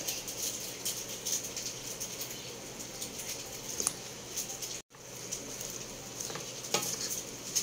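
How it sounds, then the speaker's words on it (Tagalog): Stir-fried vegetables for pancit canton sizzling in a pan as soy sauce is added, a steady hiss of frying with occasional utensil scrapes and a brief dropout midway. "Lagay na ako ng toyo."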